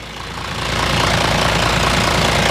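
A Ford F250 with an MWM six-cylinder diesel engine idles nearby, a steady, rumbling clatter that grows slightly louder in the first second and then holds even and close.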